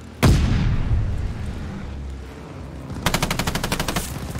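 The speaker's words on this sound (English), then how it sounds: "Friendly bombing run inbound." A friendly bombing run in the Call of Duty Vanguard multiplayer game: a heavy, booming explosion opens, then a low rumble, and finally a rapid rattling series of loud blasts.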